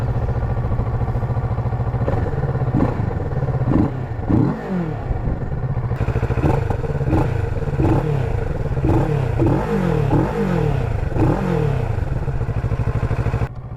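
A 2017 Kawasaki Z650 motorcycle engine runs close by with a muffled yet aggressive tone, repeatedly revving up and dropping back in rhythmic bursts over a steady idle.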